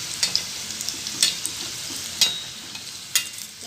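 Modak frying golden in hot oil for Ganesh Chaturthi, a steady soft sizzle broken by a few sharp scraping stirs of a slotted spoon, close and with no talking.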